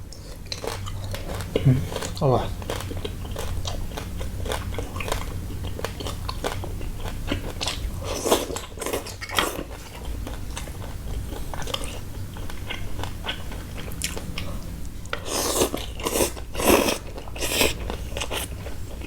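Crispy pork belly dipped in papaya salad sauce is bitten and chewed close up, with repeated crunchy bites in bursts and quieter chewing between them, and no talk.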